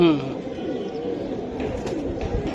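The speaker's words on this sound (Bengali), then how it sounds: "এই যে নর ভাই, সিলভার" Silver Giribaz pigeons cooing at a market stall, soft repeated coos layered under nearby human chatter and crowd noise.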